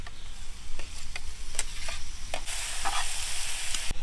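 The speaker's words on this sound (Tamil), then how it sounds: "இப்போ வெங்காயம் தக்காளி நல்லா வதங்கிடுச்சு." Onions and tomatoes sauté in a pan for quail pepper fry, with a steady sizzle, scraping stirs and occasional sharp ticks of the spatula, and the hiss grows brighter toward the end. No voices are heard.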